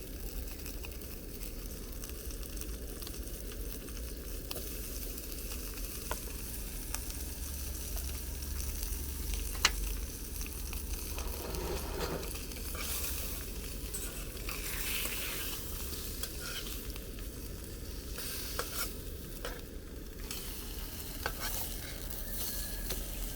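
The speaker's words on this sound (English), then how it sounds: "Spam is okay once it's fried. It tastes so much better when you lightly fry it." Spam lightly frying in a carbon steel skillet outdoors, a soft, steady sizzle over a low rumbling background, with occasional faint pops and crackles and a single sharp tick partway through; no talking.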